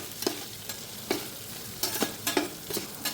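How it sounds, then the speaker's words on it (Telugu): Chopped onions fry for chicken liver biryani in a low, continuous sizzle, with a few rhythmic scraping stirs of a spoon through the pan, close up. "కట్ చేసి పెట్టుకున్న ఆనియన్స్ని దూరగా ఫ్రై చేద్దాం"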